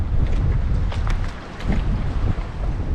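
Strong storm wind blasting by the sea near moored fishing boats, loud gusty roaring that swells and buffets the microphone in waves, no voices.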